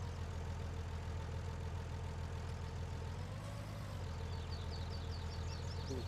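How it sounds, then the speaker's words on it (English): A tractor engine in Farming Simulator 19 runs steadily at a low idle, holding a constant drone throughout while the tractor maneuvers in a tight space, with no talking. "Just hope I can turn the tractor in this tight space."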